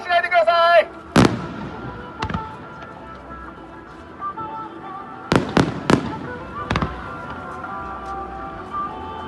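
Fireworks bursting at a crowded festival display, with a few sharp, loud booms spaced irregularly across the clip over a murmuring crowd background.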